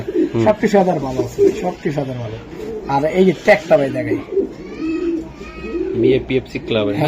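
Racing pigeons coo softly in repeated low warbles while a person talks nearby throughout.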